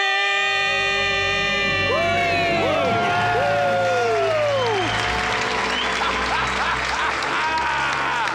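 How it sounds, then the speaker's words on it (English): A large live audience at a debt-free celebration erupts in loud, sustained screaming and cheering that swells after a few seconds and fills the rest of the moment, with a dense wash of voices and clapping. "Let's hear a debt-free scream"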